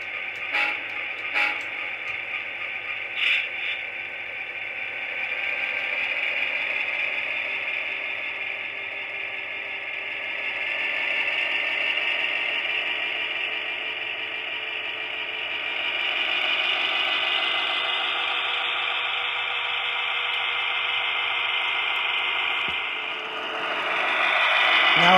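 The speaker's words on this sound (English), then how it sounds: "Alright, now let's have this engine pick up a refrigerator car." Atlas CSX GP-38 model train engine coupling to a refrigerator car, a continuous whirring motor hum with faint clicks and shifting pitch as the locomotive moves along the track, ending with a sharper mechanical clunk.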